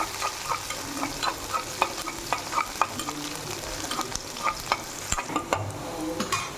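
Onions sizzling in a pan for raw banana masala, with close spatula scrapes and stirs in a steady rhythm over continuous frying hiss and no talk.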